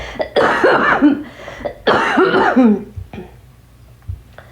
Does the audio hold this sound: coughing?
yes